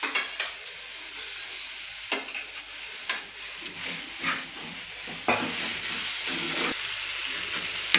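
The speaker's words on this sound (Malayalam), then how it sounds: "നല്ലോണം വഴറ്റിയെടുക്കാം. കുറച്ച് ഉപ്പും കൂടി ഇട്ട് കൊടുക്കാം. തക്കാളി ഇട്ട് കൊടുക്കാം." Tomatoes and onions sauté in a pan for a Kerala prawn roast, with a steady close sizzle broken by repeated scraping stirs of a spoon, and no voices.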